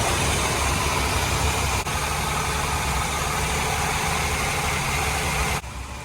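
Boat engines idling at the dock, a steady, continuous low rumble with a constant hum, close and moderately loud throughout with no talking.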